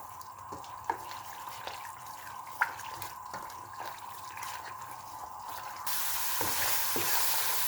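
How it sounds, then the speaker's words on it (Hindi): Spices fry in about a cup of cooking oil in a pan for a mutton, potato and pea curry. A low, steady sizzle carries a few light clicks of stirring, then swells into a louder hiss near the end. "अब इसके अंदर 1 कप कुकिंग ऑयल का शामिल कर लेंगे और अच्छी तरह से अब हम इन मसालों की भुनाई करेंगे"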